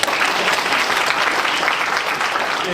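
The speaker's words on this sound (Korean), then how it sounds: "박수 한번 부탁드리겠습니다" Steady, dense applause from an audience at the opening ceremony of a youth concert held with a local residents' council, a continuous wash of many hands clapping without a break.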